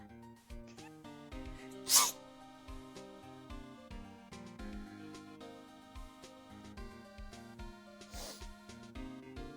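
A cat sneezes twice close by, two sharp bursts a few seconds apart over steady background music.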